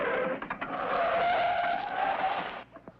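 A cartoon propeller plane skids to a stop on its brakes near a cliff edge, giving a loud, steady screeching slide that lasts nearly three seconds before fading into a few faint knocks.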